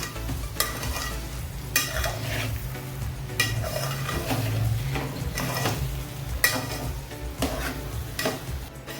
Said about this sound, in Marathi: ते मी तळापासून परतवून घेतलं आहे